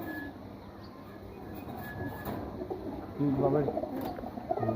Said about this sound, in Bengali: কালারে কালারে মিললে কবুতর ডাকে